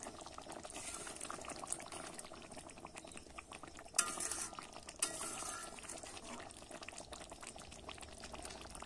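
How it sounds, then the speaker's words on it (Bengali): Matar kofta curry simmers and bubbles steadily in a pot while a spoon gently stirs it, giving soft scraping and a couple of light clinks over the constant bubbling. "এবারে কিন্তু আমি হালকা করে নেড়ে দেব।"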